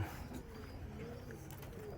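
Pigeons coo softly inside a two-year-old wooden pigeon loft, low murmuring calls blending into a steady, faint background hum.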